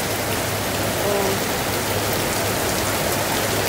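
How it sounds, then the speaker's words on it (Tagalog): Heavy rain pours down in a dense, constant hiss, loud and close, with no break or voices over it. "Sobrang lakas ng ulan guys."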